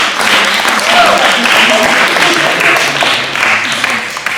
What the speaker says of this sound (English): So just please give her a round of applause for everything.